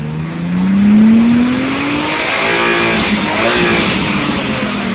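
A chipped BMW engine revs up with a rising whine that peaks and then eases back, its pitch climbing and falling across repeated sweeps, loud and close with no talk.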